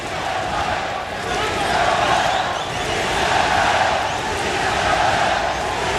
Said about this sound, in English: The crowd trying to urge Chavez on